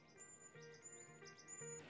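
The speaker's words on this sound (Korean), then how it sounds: "새소리만 납니다." Birds chirp and tweet in short repeated calls, faint and distant, on a quiet, still mountain summit about 397 m high on Wando island, with no talking.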